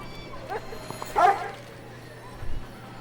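A dog gives a few short yips and whimpers, including one louder sharp bark-like cry, quiet and sparse over a faint background hum.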